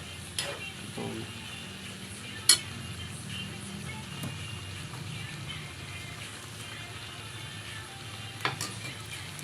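Chicken curry fries in a pan with a soft, steady sizzle while a utensil stirs it, its scrapes and sharp knocks against the pan sounding at a few moments.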